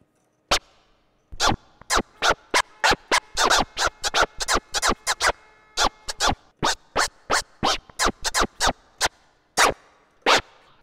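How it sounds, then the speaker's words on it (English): DJ scratch sounds from the UVI Urban Suite software instrument, played one after another as a long run of short, sharp scratch bursts in an uneven rhythm, close and clear with no talking. "If you're not a DJ, you don't know how to scratch anything like that."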